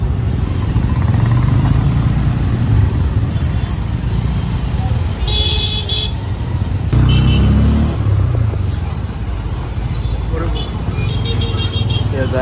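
A car driving through city traffic toward the Charminar area of Hyderabad: a steady low road rumble with engine hum, a few short horn toots from nearby vehicles, heard from inside the car.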